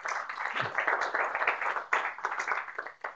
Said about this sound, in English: Big round of applause there, Tony.